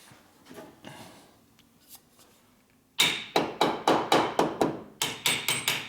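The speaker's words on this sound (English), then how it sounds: "My hammer." Faint shuffling gives way to a run of sharp, loud hammer blows in a quick, regular rhythm, pausing once before several more strikes, during cam tensioner bearing repair on a 2004 Harley-Davidson FLHT Twin Cam 88.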